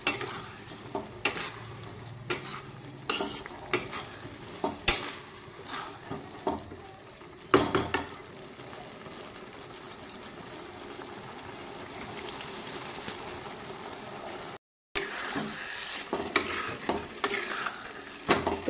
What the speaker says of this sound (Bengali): রাজমার সাথে আমি মশলাটাকে একটু ভাজা ভাজা একটু কষিয়ে নেব।